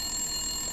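A telephone rings in the horror video game Resident Evil Village, a steady electronic ringing tone that carries alone through the whole moment without any speech.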